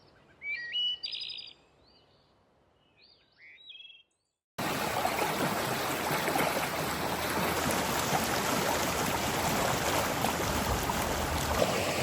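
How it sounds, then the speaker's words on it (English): The Nooksack River flows through a cold, moss-covered rainforest, a steady broadband rush of water that starts abruptly partway in and runs loud and constant to the end; before it, bird chirps sound over quiet. "This is the Nooksack River."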